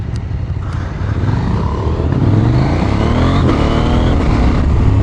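A KTM 890 SMT motorcycle's engine and exhaust drone steadily as the bike is ridden, building slightly in loudness and pitch as it accelerates, with continuous wind and road rumble and no talk.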